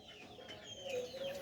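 Chickens cluck softly in short bursts close by, with a steady low background murmur and no voices.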